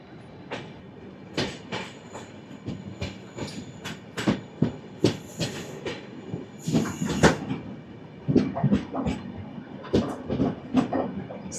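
The Howrah to Bengaluru Duronto Express runs through Kharagpur Junction, its wheels clattering over rail joints and points in sharp, irregular bursts of clicks and bangs, close and loud with varying rhythm.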